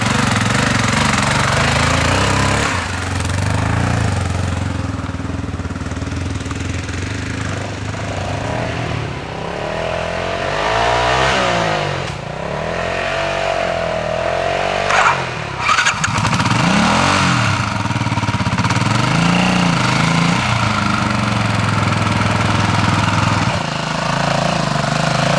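A Harley Davidson MT350 military motorcycle of a Royal Logistic Corps transport regiment runs with a loud, steady single-cylinder engine drone, revving up and down as it moves over rough off-road ground throughout.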